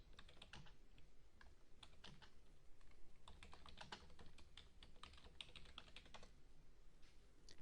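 Brisk, uneven clatter of keys on a computer keyboard as a search query is typed, close and quiet with short pauses between bursts of strokes.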